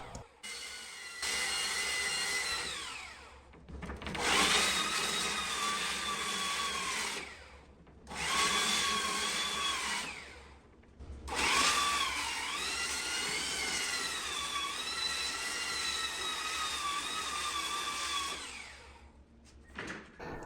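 A power tool cleans excess epoxy off wooden boat scarf joints, its high whine running in several bursts of a few seconds each with shifting pitch under load and brief quiet gaps.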